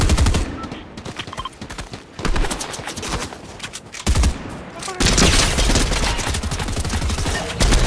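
Repeated gunfire in the Fortnite video game, with several bursts of close, loud shots rattling through the whole stretch, the density picking up sharply in the last few seconds.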